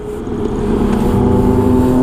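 Busy Sunday-morning road traffic with many cars and big bikes heard from a moving motorcycle, a loud, steady engine hum and road roar that builds over a couple of seconds.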